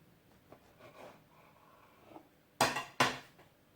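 A knife slices through the middle of an egg mayonnaise sandwich with mint leaves, giving two sharp, close crunching cuts against a plate after a few quiet handling noises.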